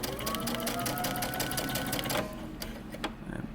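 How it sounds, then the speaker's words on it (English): A sewing machine runs loud and close, its motor whirring steadily as it stitches a pleat on a men's button-up shirt, then slows near the end. "take this over to the sewing machine and stitch it right across the top"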